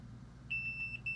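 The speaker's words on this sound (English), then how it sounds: "I get a beep from my multimeter when I have continuity" A steady multimeter continuity beep starts partway through, high and clear, with a brief break before sounding again over a quiet background, while testing a Samsung The Frame TV's One Connect box that won't turn on.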